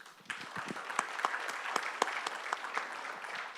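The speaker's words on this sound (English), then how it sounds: "I invite you to give them a big round of applause" A conference audience at the 2017 World Customs Organization PICARD event on customs-tax cooperation gives the panelists a full round of applause: dense, steady clapping from many hands with a few sharper claps standing out throughout.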